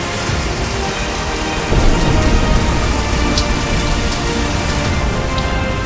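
Heavy monsoon rain pours down steadily in a Gujarat city, a dense continuous roar of drops hitting surfaces that swells slightly louder partway through, with no voices.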